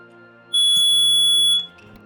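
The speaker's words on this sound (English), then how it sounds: "That was the fire alarm." A fire alarm suddenly blares a loud, steady high-pitched electronic tone for about a second over quiet game background music, then stops.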